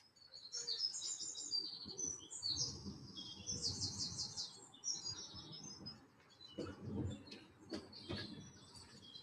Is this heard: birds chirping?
yes